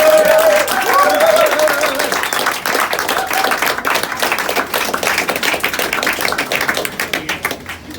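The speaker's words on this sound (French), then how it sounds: "Je voudrais que vous applaudissiez très fort ce soir à la basse" Audience at a funk jam in a Paris cellar club claps for the bassist, a crisp burst of applause over a lingering sustained tone, then thinning to scattered claps with some talk underneath.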